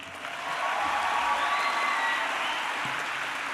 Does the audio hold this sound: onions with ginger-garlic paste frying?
no